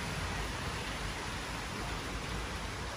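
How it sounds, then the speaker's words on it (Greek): A sudden tropical downpour, heard as a steady, dense hiss of rain falling outdoors, loud and unbroken throughout with no voices. "Μια τροπική μπόρα ξέσπασε έτσι ξαφνικά"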